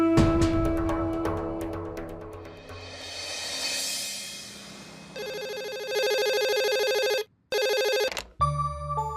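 A phone ringtone plays, shifting through electronic tones and repeated chiming pulses, with a brief dropout before the ringing resumes near the end.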